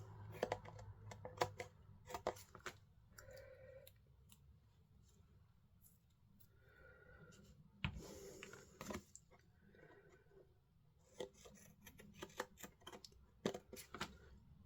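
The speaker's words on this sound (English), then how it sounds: "And get some big scissors" Quiet, sharp snips and clicks come in irregular bursts as big scissors cut down a thin panel close by, with soft rustling between.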